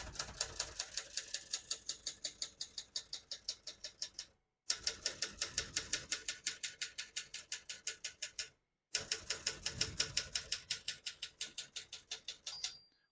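A 1975 Adler J5 manual portable typewriter clacks in quick, even keystrokes, three bursts of rapid typing separated by brief silences, close and crisp.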